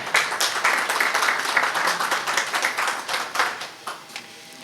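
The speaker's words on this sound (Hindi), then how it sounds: "आपकी भरपूर तालियों में सरदार आसफ़ नदीम ग्रेवाल साहब" A crowd at a media anniversary event claps to welcome a speaker, a lively burst of many hands that holds steady and then slowly thins and fades toward the end.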